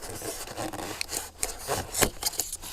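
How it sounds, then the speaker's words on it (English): Styrofoam insulation on a house wall is scraped and scratched by hand, giving close, rough, uneven rasping strokes in short bursts with no talking. "I can actually scratch away a little bit of styrofoam to reveal that"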